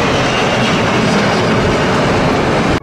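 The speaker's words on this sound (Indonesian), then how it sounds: "Ini adalah pesawat terbang." A toy Garuda airplane's engine whirs in a loud, steady, close drone for a few seconds, then cuts off abruptly.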